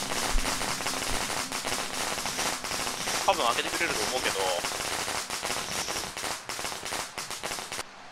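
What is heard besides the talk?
firecrackers crackling in video game Shadow Corridor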